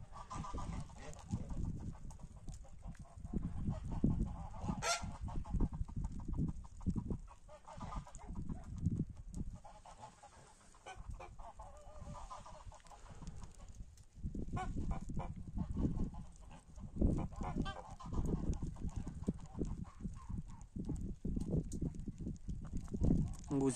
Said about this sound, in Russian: Там орут наши ленточные гусики, и они вместе с этими перекликаются